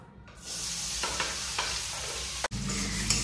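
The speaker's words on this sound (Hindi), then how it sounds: "तो इस प्याज को अच्छे से भुना जा रहा है।" Onions fry in hot oil in a kadhai while being stirred for biryani, giving a steady close sizzle with a few scraping stir strokes and a brief dropout partway through, no talk.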